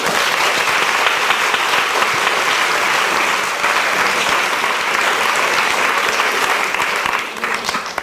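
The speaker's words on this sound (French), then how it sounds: "Je vous demande de l'applaudir" An audience at a Boris Vian tribute event applauds the host Pierre: dense, loud, continuous clapping that holds steady for several seconds before thinning out at the very end.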